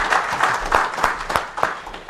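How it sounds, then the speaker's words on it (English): An audience at a Dell data center and networking consulting forum breaks into steady, dense applause to welcome a speaker, loud and continuous with no one talking over it. "We'll welcome him with a huge round of applause"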